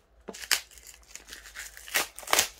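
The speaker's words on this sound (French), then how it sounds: "Alors attendez, je déballe ça." Plastic packaging of rhinestones and stencils being torn open and crinkled, with several sharp rips and rustling bursts close by and no voices.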